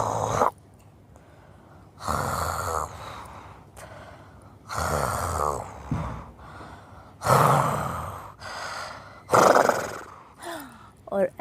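A storyteller's voice imitating a lion snoring loudly in a children's lion-and-mouse tale: about five long, rasping snore-roars, each followed by a quieter breathy inhale, close and loud.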